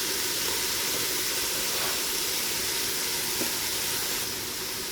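Chopped onion goes into browned pork in a Ninja Foodi or Instant Pot pressure cooker pot, making a quiet, steady hissing sizzle with a faint steamy wash, unbroken and without talking.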